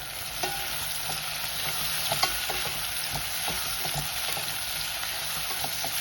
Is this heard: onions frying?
yes